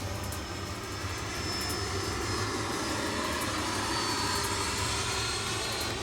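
An RC F-22 model plane cruises over a field at about 65-70% throttle, giving a steady, even whooshing drone that holds at moderate distance throughout, with no voices.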